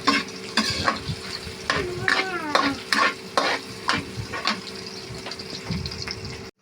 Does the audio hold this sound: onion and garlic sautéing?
yes